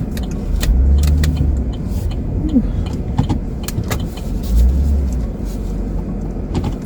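A car rolls slowly into a spot outside a Kohl's store, with a low, steady engine and road rumble throughout and faint jangles and clicks on top.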